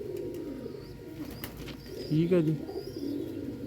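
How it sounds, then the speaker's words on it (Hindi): Pigeons cooing nearby, a soft low warble that swells briefly toward the end over steady background murmur, with someone speaking a few words. "ये कबूतर है जनाब जो कि आए हैं मुझे गिफ्ट"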